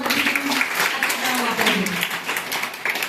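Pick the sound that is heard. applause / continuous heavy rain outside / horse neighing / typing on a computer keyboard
applause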